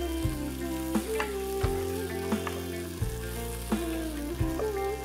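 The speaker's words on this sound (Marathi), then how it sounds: "आणि आता हे थोडस परतून घ्यायचंय." Chopped onions, tomato and coriander sizzle steadily while being sautéed in a pan, with a continuous frying hiss broken by a few soft stirring clicks and scrapes, close and moderately loud, no talking.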